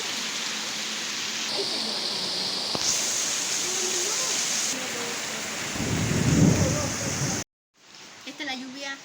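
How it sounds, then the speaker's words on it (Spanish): A thunderstorm with heavy rain during a power outage, pouring as a dense steady hiss while thunder rumbles low, ending in a sudden cut before quieter rain resumes. "Esta es la lluvia, la historia de la lluvia con relámpagos"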